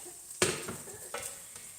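Onions being stirred in a frying pan, a few short scraping strokes of a utensil against the pan over a soft, steady sizzle, close and fairly quiet.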